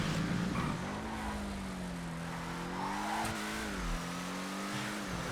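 A Weevil car in GTA FiveM racing holds a steady, close engine drone that revs and wavers gently in pitch for several seconds, with no talking.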